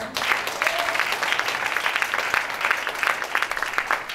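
A church congregation claps together in sustained, dense applause, loud and close, with a few voices faintly audible underneath.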